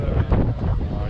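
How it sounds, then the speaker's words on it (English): Wind gusts roar across the microphone outdoors at a conference trip in Delft, Netherlands, a loud, rumbling buffeting that fills the short moment with no one speaking. "The wind is blowing."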